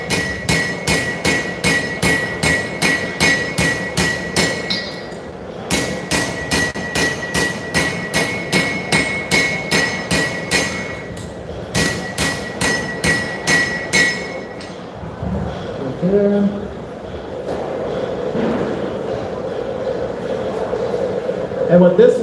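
Steel knife bevels being forged with a straight peen hammer at a knife show: a loud, rapid run of ringing metallic hammer blows in bursts, pausing between sets, then quieter shuffling and handling noise at the end.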